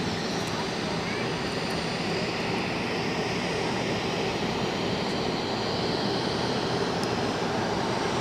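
GP Aviation Boeing 737-400 jet at Zurich Airport producing a loud, steady broadband engine roar that stays constant and close for the whole stretch.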